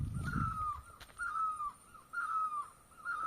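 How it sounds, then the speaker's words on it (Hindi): A bird calls repeatedly outdoors, a series of harsh caw-like cries at a steady pace, with a brief low rumble at the start. "चिड़िया कितना प्यारा आवाज कर रही है मौसम खुलते ही"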